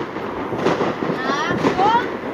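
Fireworks set off on New Year's Day send out scattered booms and crackles with rising whistles, moderately distant, as a person speaks over them.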